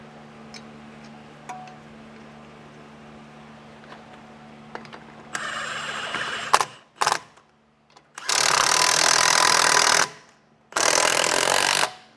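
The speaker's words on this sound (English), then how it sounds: "I'll get this secured just with 2 lug nuts on either side." Bursts from a power tool fasten the lug nuts that hold a trailer tire onto a replacement hub bearing: a short rattle, then two longer, loud whirring runs separated by brief pauses over a quiet background hum.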